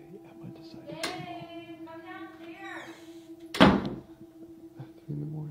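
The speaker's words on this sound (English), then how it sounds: "3 in the morning, and there's something slamming the door." A door slams hard at night, one loud thud standing out over a steady low hum, while voices talk and shout around it.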